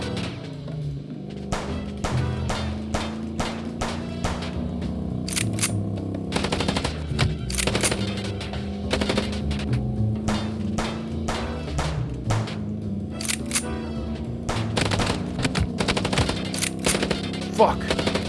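Gunfire in the video game Chicken Police, sustained bursts of rapid machine-gun shots and scattered single cracks over a steady low game background, loud throughout, with occasional speech beneath.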